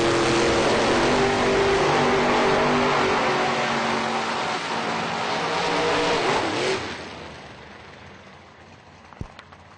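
A Corvette and a Toyota pickup truck launch side by side in a drag race, their engines roaring loudly and steadily before the noise fades away as they pull off down the strip.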